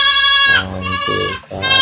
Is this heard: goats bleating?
yes